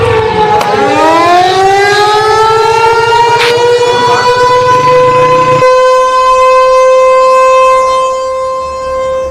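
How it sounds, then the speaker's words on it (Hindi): A civil defense siren wails over Lahore, rising sharply to a loud sustained steady tone that holds for several seconds before slowly fading, heard alone without voices. "सायरन तो बज रही ना भाई"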